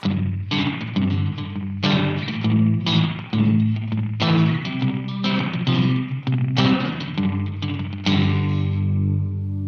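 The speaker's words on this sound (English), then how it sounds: "almost that reverby sound if you palm mute a little bit." Palm-muted electric guitar through a chorus pedal gives a reverby, warbling tone: a close, loud run of choppy strummed chords in quick rhythm, with a final chord left to ring out, no voices.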